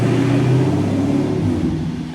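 An LS-swapped BMW E30 with a stock 6.0 V8 accelerates hard in third gear, a loud, steady engine roar with deep low rumble that holds throughout and eases slightly toward the end.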